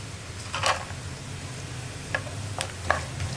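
Cashews and raisins frying in oil in a single pan while a spoon stirs them, giving a soft steady sizzle with a few brief scraping clicks, heard close and alone.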